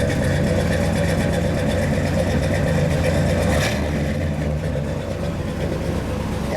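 A 1965 Chevrolet Impala's 396 L78 V8 idles steadily with a deep, rumbling, loping exhaust note, close and continuous, dropping slightly in pitch partway through.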